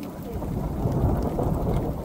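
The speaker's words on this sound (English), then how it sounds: "still cloud to cloud, rumbling through the sky" Cloud-to-cloud thunder during a Cariboo rainstorm, a deep continuous rumble rolling across the sky beneath the steady hiss of heavy rain falling nearby.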